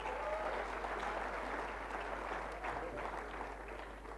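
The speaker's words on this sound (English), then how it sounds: "Big round of applause there, I think." An audience at a sports federation awards ceremony claps for a sailing team competing in the final, a sustained broad round of applause at even strength that tapers slightly toward the end.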